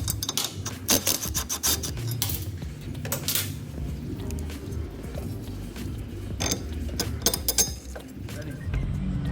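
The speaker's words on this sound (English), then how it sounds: "we're gonna take out this lower control arm bolt" A lower control arm bolt being loosened on a Subaru Crosstrek, with continuous close rasping, grinding and creaking metal sounds and sharp clanks throughout, and a voice talking at times.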